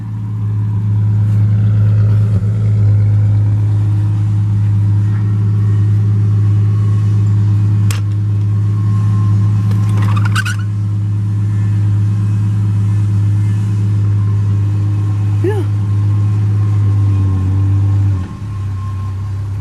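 A 1967 Plymouth Barracuda runs on its first drive in 30 years, a steady, loud, close engine drone with a deep hum that holds for most of the time before dropping near the end.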